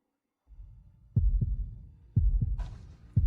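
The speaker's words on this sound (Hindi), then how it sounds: "दिल की धड़कन इतनी तेज क्यों है?" A fast heartbeat sound effect with repeated deep double thumps in a quick, steady rhythm, loud and close, with no talk over it.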